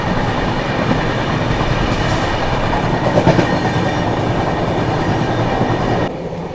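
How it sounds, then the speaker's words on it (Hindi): Heard from aboard a train running at about 130 km/h, the New Delhi–Dibrugarh Rajdhani Express 20504 runs on parallel rails alongside, giving a loud, steady rail roar and clatter that drops slightly near the end. "नई दिल्ली डिब्रूगढ़ राजधानी एक्सप्रेस वाया मुरादाबाद वाली 20504"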